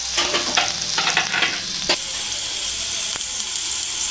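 Carrot, capsicum and tomato frying in a pan with a little salt and coriander, a steady close sizzle with a few scraping stirs in the first two seconds, then even hissing alone.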